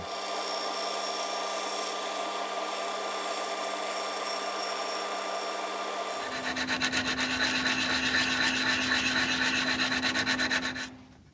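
A steady bandsaw whine runs throughout, then the blade bites into wood for a fireplace surround shelf with a loud buzzing rasp for several seconds before cutting off abruptly.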